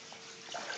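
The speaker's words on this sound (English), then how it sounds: "Bathroom's deep enough that it's actually flowing over into the shower and draining" Floodwater in a flooded apartment bathroom flows over into the shower and drains away, a steady faint watery rush with small splashy gurgles, heard alone.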